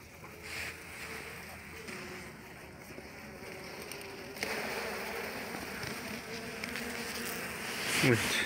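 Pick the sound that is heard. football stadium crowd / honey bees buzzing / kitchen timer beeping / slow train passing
honey bees buzzing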